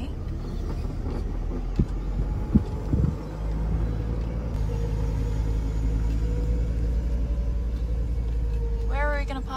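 A 7.4 meter van rolls through a busy car park, its steady low engine rumble and road noise continuous throughout, with a few brief knocks early on and a voice talking near the end.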